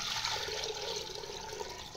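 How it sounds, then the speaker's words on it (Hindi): Water pours steadily into a pot, ready for boiling vermicelli, as a continuous rushing, splashing stream. "ये देखिए हमने डाला इसमें पानी"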